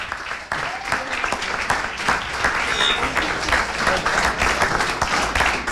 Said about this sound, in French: qu'on peut applaudir évidemment